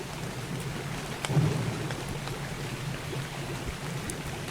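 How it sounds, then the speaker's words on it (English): Steady rain patters throughout in the video game Ark: Survival Evolved while a low rumble of thunder rolls in briefly, fairly quiet and distant. "Oh, it's raining."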